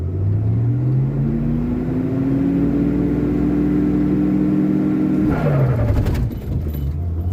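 A Ford Mustang engine with a freshly cleaned carburetor, revved toward 4,000 RPM: a loud, close engine whose pitch climbs steadily, then drops off suddenly as it bogs, settling back into a rough lower rumble.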